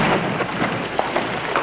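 Booming, thunder-like rumble from a rainmaker's gunpowder explosions over drought-struck ranch land, rolling continuously with a few sharper thumps and no voices.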